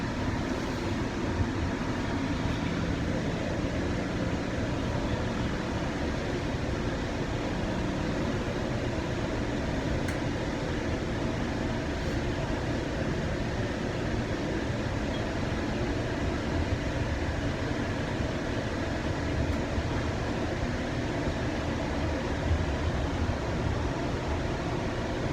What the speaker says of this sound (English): Train is so slow through here.